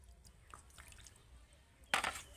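Half a cup of water is poured into sour yogurt and broken wheat (dalia) in a bowl. After a quiet stretch with faint drips comes a short, close splashing pour near the end.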